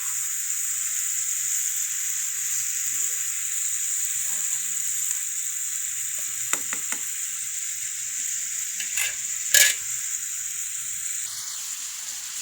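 Pumpkin pieces fry with salt and turmeric in a pan, giving a steady close sizzle throughout with a few sharp scraping stirs and clinks near the middle.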